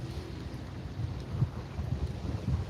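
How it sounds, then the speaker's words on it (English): Steady wind on a beach rumbles and buffets against the microphone, a low continuous roar with gusty swells and no voices. "It's getting a little less windy here right now."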